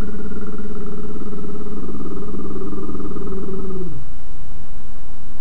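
Singing lip roll exercise, lips bubbling with a buzzing voiced tone that steps along a short scale for about four seconds, loud and close, then stopping abruptly into a quiet background.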